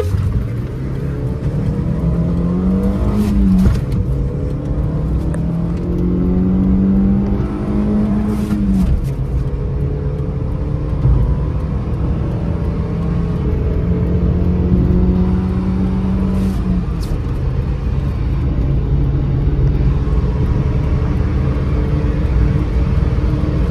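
Hyundai Santro and Maruti Alto hatchbacks accelerating side by side in a roadside drag race, engines rising in pitch through repeated gear changes, loud and continuous for the full stretch, with a passing bike and traffic around.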